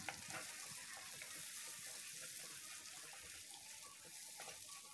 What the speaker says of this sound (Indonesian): Lalu masukkan bumbu halusnya. Lalu tumis sampai wangi.